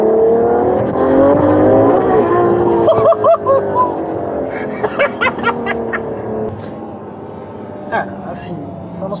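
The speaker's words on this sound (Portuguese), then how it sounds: "É um V12 Ferrari." The V12 engine of a Ferrari F12 Berlinetta revs up and holds a rising, harmonic drone, heard close beneath people talking and chuckling.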